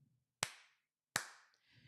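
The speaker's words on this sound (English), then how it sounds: "then I want you to do some loud claps" Two sharp, loud hand claps about three quarters of a second apart ring out in a quiet room, each trailing off in a brief echo.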